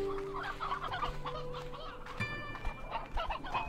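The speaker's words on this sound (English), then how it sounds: "Now, let's just go get a few more chickens." Chickens cluck repeatedly in Slime Rancher 2, a busy flock of game fowl close by, their clucks layered over steady background game music with no talk.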